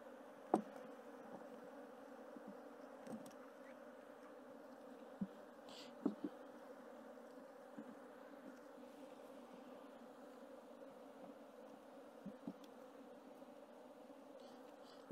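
Honeybee swarm at the hive: a steady, moderate buzzing drone of many bees throughout, with a few faint clicks and taps, no voices.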